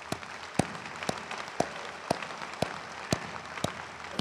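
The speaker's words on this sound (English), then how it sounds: "Let's give them all another rousing round of applause." Applause at an inaugural commencement ceremony: faint crowd clapping with sharp claps recurring at a steady, rhythmic pace for about four seconds.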